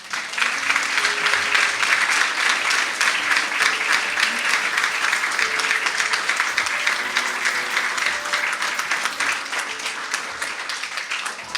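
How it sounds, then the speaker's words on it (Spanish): Sustained, loud applause from a church congregation, dense and steady with clapping throughout and no other sounds standing out. "Vamos a dar un aplauso al Señor"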